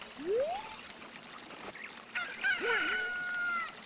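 A chicken crows in the video game Zelda: Ocarina of Time, a short rising squawk followed by a bright cartoonish cock-a-doodle-doo with a jingly musical flourish, clear and close.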